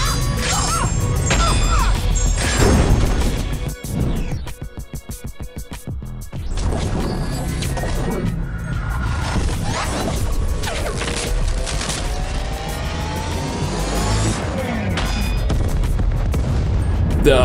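GORR's Special 3 attack lands in Marvel Contest of Champions as a dense run of loud, close game impact effects: crashing hits, booming blasts and rapid volleys that swell and sustain over several seconds, with no speech.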